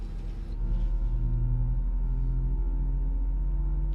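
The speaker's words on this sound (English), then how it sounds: "Can you hear the engines and the simulator okay, or is it too loud, or is it too soft for the simulator?" Airliner engine spooling up during start in a flight simulator, a steady low drone with rising tonal whine that holds level and loud throughout, with no talking.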